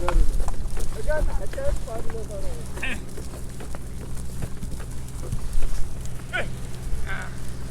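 A herd of about 200 goats bleats at close range on a highway between Gujarat and Rajasthan over a low rumble of traffic, with scattered calls and voices in the background.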